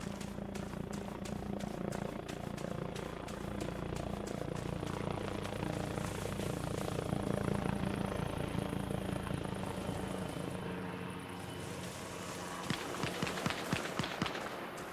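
Helicopter in the video game Arma Reforger, a loud continuous rotor and engine drone with fast blade chop, swelling slightly midway before some sharper crackling bursts toward the end.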